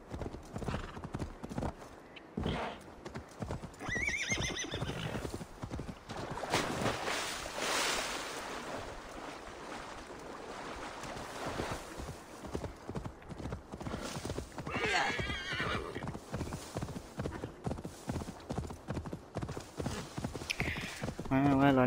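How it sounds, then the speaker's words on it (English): A horse gallops with fast, steady rhythmic hoofbeats and an occasional whinny in the Assassin's Creed Valhalla video game, loud and continuous over light background game sounds, with some voice present. "Well, at least I have a fast horse."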